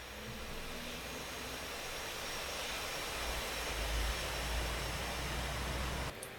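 Twin jet engines of an F/A-18C in the DCS flight simulator spool up during taxi, a steady broadband roar with a low rumble that swells slightly midway and cuts off abruptly at the end.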